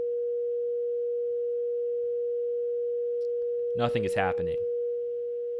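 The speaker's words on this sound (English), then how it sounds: "So if we play back our sine tone, with most traditional saturators and distortions" A steady, pure sine tone plays through a distortion device in Bitwig Studio, holding one unchanging pitch throughout while someone speaks briefly over it near the end.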